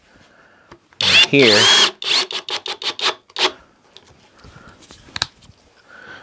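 A power drill drives two-inch screws into wood, starting with one loud whirring burst and then a quick series of shorter pulses. A voice briefly speaks nearby.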